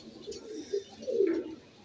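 Soft, low cooing from an Iranian Highflyer pigeon, a couple of throaty murmurs close by in an otherwise quiet space.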